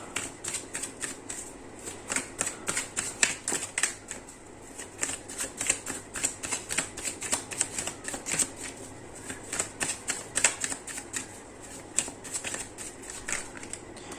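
Tarot cards riffled and shuffled by hand, a long run of quick, crisp flutters and snaps in an uneven rhythm, close and fairly clear, with no voices over it.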